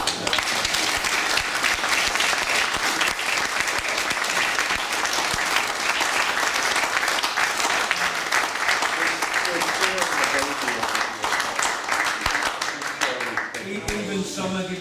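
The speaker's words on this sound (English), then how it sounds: "We'll do a round of applause" Dense, sustained applause from an indoor audience after a talk, loud and steady throughout, with voices emerging as the clapping thins toward the end.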